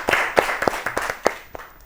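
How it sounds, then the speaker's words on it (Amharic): Applause from children on a televised school quiz show for a correct answer, a short run of distinct, uneven claps that thin out and fade. "ዲ ፎረስት አጨብጭቡለት በደንብ አድርጋችሁ።"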